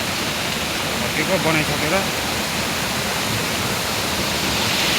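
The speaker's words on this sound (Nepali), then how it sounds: "यहाँनिर हो पानीको नालाहरू यो हो है। पानी छ एकदम जङ्गल रहेछ, पानी चाहिँ माथिबाट आउँदो रहेछ" A jungle water stream flowing down from higher ground, a loud constant broadband rush filling the whole clip, with a voice speaking briefly over it.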